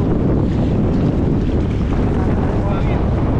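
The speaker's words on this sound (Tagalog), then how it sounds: "Gusto na lang sa hangin o? Oo, Hangin. mahangin o." Strong wind roars and buffets the microphone over open water, a constant loud rush with faint waves beneath.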